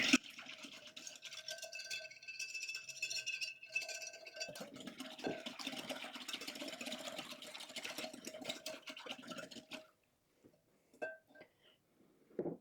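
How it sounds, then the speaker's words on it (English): Ingredients are whisked together in a bowl with a fast, continuous clattering whir, close and moderately quiet, stopping near the end and followed by a few soft clinks. "I'm going to whisk that together."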